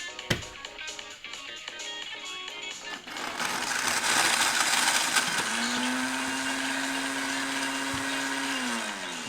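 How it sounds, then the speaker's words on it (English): A countertop blender whirs loudly and steadily as it mixes a layered protein shake with protein powder, rising from a rattling start into a sustained motor drone. "By the way, this blender sucks."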